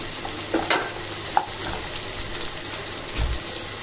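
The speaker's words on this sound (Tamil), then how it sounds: "ஸோ கேரட் ஆட் பண்ணிட்டு நல்லா வதக்கிடுங்க." Carrots sauté in a pan with dried red chillies, a soft steady sizzle broken by a few sharp scrapes and clinks of a spoon, close and fairly quiet.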